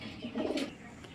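A pair of pale Mili pigeons giving a single short, soft coo close by, with no other sound.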